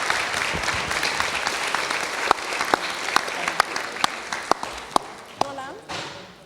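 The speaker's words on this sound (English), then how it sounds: "So big applaud for them." An audience at a live event on special giftedness claps steadily in dense, continuous applause, with a few sharper individual claps standing out before it fades at the end.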